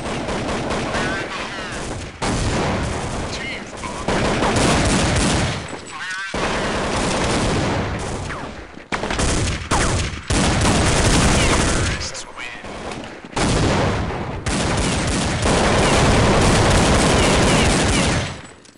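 Rapid bursts of gunfire from the game Counter-Strike 1.6 crackle in dense volleys with brief gaps between them, loud and continuous throughout, with a voice talking over parts of it.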